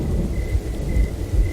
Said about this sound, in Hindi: बिजली चमक रही थी और गड़गड़ाहट के साथ कड़क रही थी।